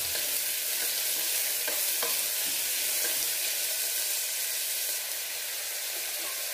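Onions sautéing in oil for a restaurant-style vegetable kurma, a steady broadband sizzle throughout with occasional soft stirring scrapes, close and even, no talking.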